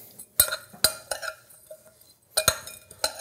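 Spoon scraping and clinking against a bowl while chopped garlic and pistachio crust mixture is stirred, several sharp close taps in two short clusters separated by a quiet pause.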